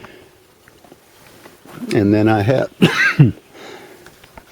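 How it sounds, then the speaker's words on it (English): A person coughs and clears their throat in a fit during a tour of a high tunnel greenhouse garden. There are a few harsh, close bursts, with brief speech nearby. "Had a coughing fit there."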